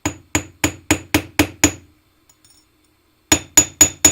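Close metallic taps from a riveting hammer on ring wire: seven quick, evenly spaced strikes, a short silence while the ring is flipped, then four more ringing blows.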